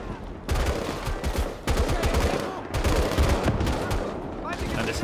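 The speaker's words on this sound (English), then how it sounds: "And this hill is under just constant fire" Constant gunfire rakes a fortified hill as U.S. Army troops storm it in the WWII game Gates of Hell, with dense, overlapping rifle and machine-gun bursts cracking in near-continuous volleys and brief lulls between.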